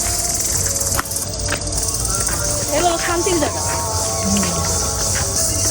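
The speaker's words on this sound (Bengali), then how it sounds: "গাছে চারিদিকে গাছ আর ঝিঝি পোকার আওয়াজ" Crickets chirp among trees in the early evening, a continuous high, shrill drone that runs behind the whole stretch, with a person speaking briefly nearby.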